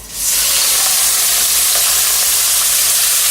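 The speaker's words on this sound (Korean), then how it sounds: "마늘과 같이 쭈꾸미를 튀기는 겁니다." Loud, steady sizzling of baby octopus frying in hot oil with garlic, a constant crackling hiss that fills the whole moment.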